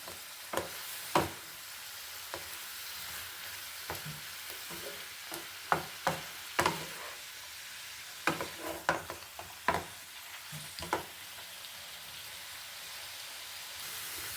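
Bok choy with ginger, garlic and brown sugar being stirred in a pan: repeated sharp spatula scrapes and taps over a soft continuous sizzle, close and fairly quiet.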